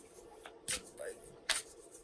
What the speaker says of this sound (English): you may hear me shuffling the Sacred Traveler Oracle cards that I'm working with today